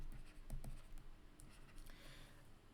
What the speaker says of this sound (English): So let me write down this sub problem here.